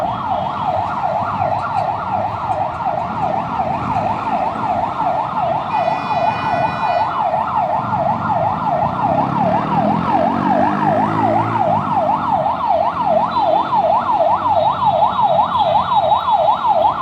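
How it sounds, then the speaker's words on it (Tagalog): A loud wailing fire truck siren rises and falls in a fast steady cycle on a road, close and constant throughout, with traffic rumble beneath and no talk. "Yan ang bumbero."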